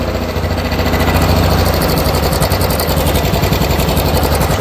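A Yamaha Big Bear ATV engine runs on full choke, a loud, close, rapid rough chugging with steady pulsing throughout and no voices.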